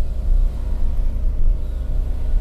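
Toyota Agya 1.0 engine labouring in first gear at high revs up a steep old road toward Cemoro Kandang, a steady loud close drone with low rumble and no talk.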